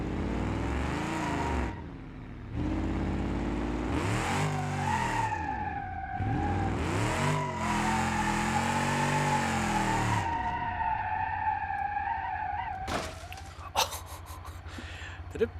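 A car in BeamNG.Drive on poor tires revs hard and spins its wheels, the engine wailing up and down through several long pulls with tire squeal, loud and close, ending in a few clunks.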